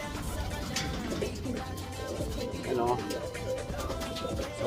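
A sick pigeon with a cold, watery eyes and a dirty nose coos in low repeated calls, while someone talks over it close by.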